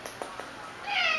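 A pet cat, one of two happy kitties, lets out a short, faint meow near the end after a few soft taps and shuffles, close by and with no talking.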